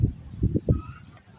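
Neighbour's ducks honking and quacking outdoors beside a mown corn field path, a few loud close calls in quick bursts.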